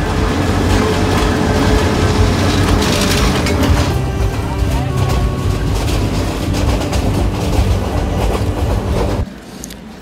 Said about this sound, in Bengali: অনেকক্ষণ অপেক্ষা করার পর ট্রেন স্টেশনে আসে।